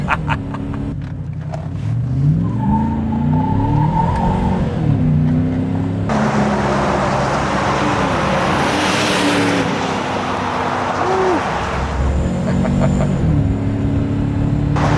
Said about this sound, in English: see if we can burn some rubber here